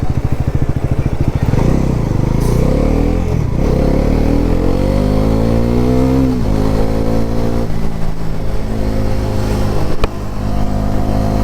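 A 2024 Bajaj NS400z motorcycle accelerates hard in fourth gear. Its loud, close engine note climbs steadily in pitch, eases briefly near the end, then pulls on again, with no talking.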